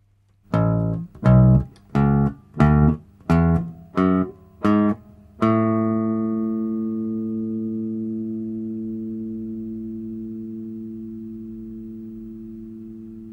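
Seven plucked bass guitar notes step upward one after another in a major scale, then a final note rings out and slowly fades over several seconds.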